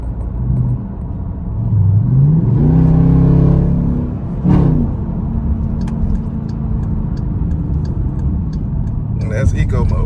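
Dodge Durango RT with its rear muffler deleted accelerates, a deep engine rumble rising in pitch around the middle, then settling to a steady drone, with people talking over it.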